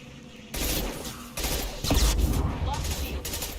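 Rapid gunfire bursts from combat in the video game Mass Effect 2, loud and close in several stretches, with in-game voices shouting over the shooting.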